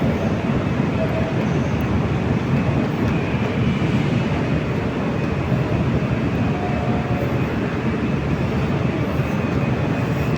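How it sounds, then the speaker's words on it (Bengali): A bullet train rumbles steadily at Guangzhou South railway station, a dense broadband roar that holds even and unbroken throughout, close by and fairly loud, with no clear voices over it. "ওদের বুলেট ট্রেন।"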